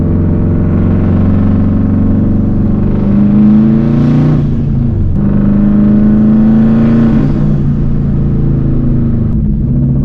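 Unmuffled exhaust of a Subaru 2.5RS with a WRX engine swap, a loud, raspy boxer drone that swells twice under acceleration with pitch rising and falling, heard up close and alone.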